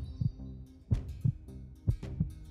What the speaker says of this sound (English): There's a heartbeat sound that I am not appreciating.